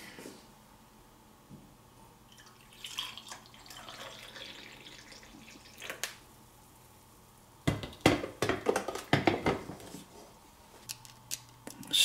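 Brewed coffee pours from the carafe of an Amazonbasics 12-cup programmable coffeemaker, a fairly loud splashing liquid stream running about two seconds after quieter handling noises, followed by clatter as the pot is set down.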